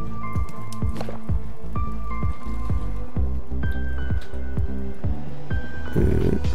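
Water being collected in the survival video game Raft, heard as a series of repeated plinking, dripping game sound effects over a steady ambient bed, with no talking.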